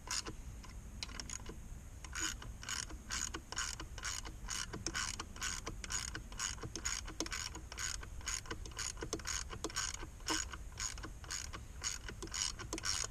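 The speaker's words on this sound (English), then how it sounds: "we're running that head bolt into that spot with the new threads" Ratchet turning head bolts into freshly repaired threads on an Evinrude 9.5 hp outboard motor, a steady run of rapid, close, crisp clicks repeating throughout with no talking.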